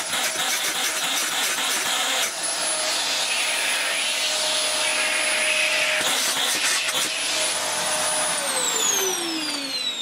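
Vax Air Steerable Max Pets (U88-AMM-PE) upright vacuum cleaner running after repair: a loud, steady motor whine and airflow rush with a high tone, dropping in pitch near the end as it winds down.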